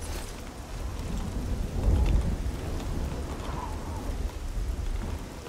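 Rain and thunder in the video game Elder Scrolls IV: Oblivion: a steady hiss of rainfall with a low rumble of thunder that swells briefly near the middle, alone with no talk.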